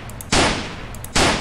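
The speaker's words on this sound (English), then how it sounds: "I shot him in the fucking leg, man." Two loud gunshot blasts from the video game Way of Hero, each a sharp broadband crack with a ringing tail, spaced about a second apart with a faint metallic click before each, alone with no talk.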